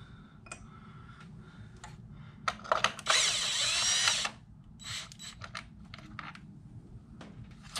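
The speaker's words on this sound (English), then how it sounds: "I'm just shooting these out with a drill" A power drill backs bolts out of the valve cover on a 2.4L GDI Kia Optima from the 2011-2015 model years, with short whirring bursts and one longer loud run amid clinking tool handling, close by.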